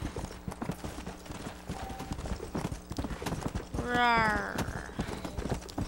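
Horse hooves clip-clop steadily in Red Dead Redemption, a continuous rhythmic trot with a whinnying neigh rising midway, while a voice briefly growls a mock roar over the hoofbeats.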